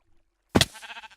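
A single Minecraft sheep bleats loudly and up close, one short wavering cry that trails off over quiet game ambience.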